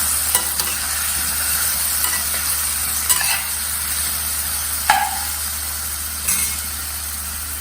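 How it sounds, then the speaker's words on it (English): Potatoes and baigan frying in a pan for a Gujarati shaak, a loud continuous sizzle with a few sharp scrapes and clinks of stirring, no voices. "Now once you throw this in, then you stir it."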